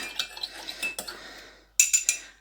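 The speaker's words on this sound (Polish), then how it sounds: "Mieszamy naszą witaminę" A spoon stirs warming tea in a cup, clinking against the sides in a quick series of light metallic taps, with a louder burst of clinks near the end.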